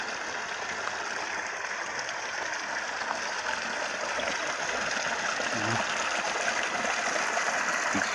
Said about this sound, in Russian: Течет водичка родимая.